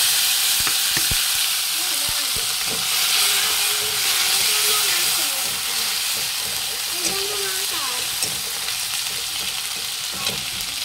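Tomato, green chilli paste and ginger paste fry in hot oil with whole spices and cumin, a steady close sizzle and hiss, stirred now and then, with brief voice sounds in places.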